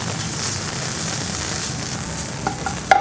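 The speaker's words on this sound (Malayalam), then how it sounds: "ആദ്യമായിട്ട് നമുക്ക് തേങ്ങ വറുത്തെടുക്കാം." Grated coconut being roasted in a pan for ullitheeyal, a steady close crackling sizzle with a few sharp clinks of stirring near the end.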